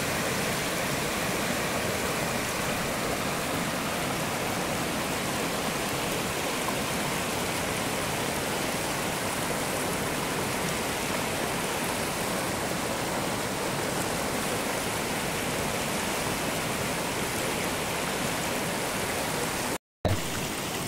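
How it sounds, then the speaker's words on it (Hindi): A river flows in Dehradun with a continuous, loud, broadband rush of water. It holds steady for about twenty seconds with no voices, and there is a brief dropout near the end. "दोस्तों ये देखिए नदी का अद्भुत नज़ारा,"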